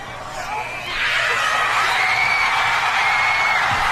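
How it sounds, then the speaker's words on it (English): A football stadium crowd at a Texas A&M game roars as a big field goal attempt is kicked, rising from a murmur into a loud, sustained swell of screams and cheers. "She's just going to listen to the crowd noise."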